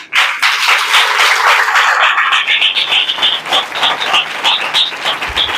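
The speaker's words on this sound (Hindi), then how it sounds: "तो हम प्रभु को जोर से तालियां बजाएं।" Loud applause from a church congregation swells suddenly into dense, close clapping and then settles into a steadier, slightly more rhythmic patter, with no talking over it.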